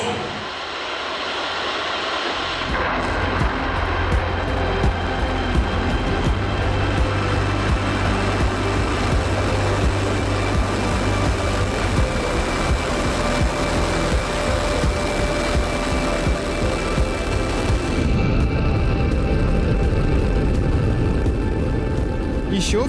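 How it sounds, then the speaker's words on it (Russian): An Angara-1.2 rocket launch: a loud, steady, broadband roar that builds within the first seconds and then holds for the rest of the stretch, with a voice faintly audible over it. "оттуда будет наш первый пуск с Ангары 1-2"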